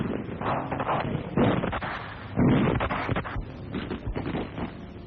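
Gunfire during the 1944 liberation of Paris street fighting, heard as a dense, continuous rumble of shots and blasts with wind-buffeted, muffled bursts throughout, loud and unbroken with no clear separation between reports.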